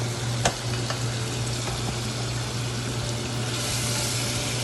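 Curry frying in a pan while being stirred with a wooden spoon, a steady close sizzle with a sharp scrape or tap near the start and a soft low hum underneath.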